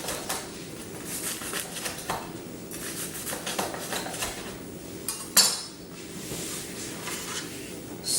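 Focaccia topped with herbs, confit tomatoes and dandelion pesto being cut into pieces on a board, with repeated knife strokes and light clinks of utensils, one sharper knock near the end, no talking.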